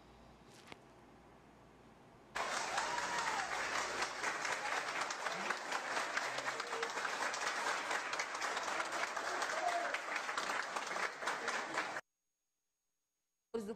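Crowd at a reinstated mayor's reception in a city council chamber bursts into sustained, dense applause after a quiet moment, clapping evenly for about ten seconds before cutting to silence.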